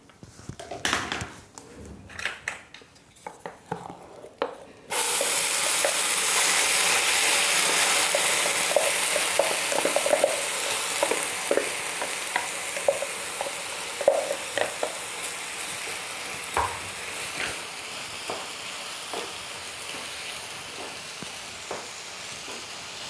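Ground amla (Indian gooseberry) sizzles steadily in a hot pan while a spoon stirs it, with a constant frying hiss broken by repeated scraping strokes and no voices.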